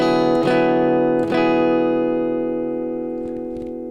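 A single rich D 6/9 sharp 11 guitar chord is strummed and left ringing, slowly fading, with a couple of light string touches near the end.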